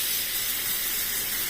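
Shrimp frying in a little oil with salt in a pan gives a steady, close, moderately loud hiss of sizzling with no break and no voices, lasting only a moment.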